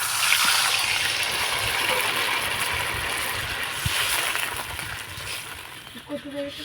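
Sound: water poured into pan of spiced potatoes

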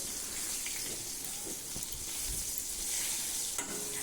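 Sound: stirring frying bitter gourd in pan

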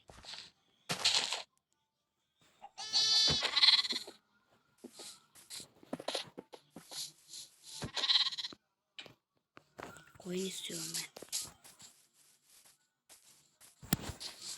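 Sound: sheep bleating in video game

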